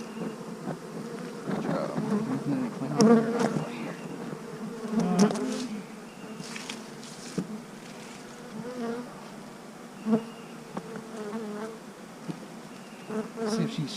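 Honeybees buzzing steadily and close during an inspection of an overwintered hive, a dense continuous hum that rises and falls, with a brief spoken remark and occasional handling noises.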